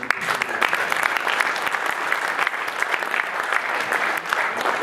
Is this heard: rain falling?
no